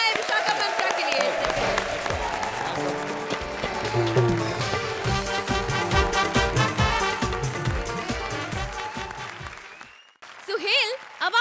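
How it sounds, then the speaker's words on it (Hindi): Loud, sustained applause from a large comedy show audience, dense clapping that fills the room for about ten seconds before dropping off, with a voice briefly rising at the end. "जोरदार तालियां हो जाए विशाखा मंत्रा के लिए।"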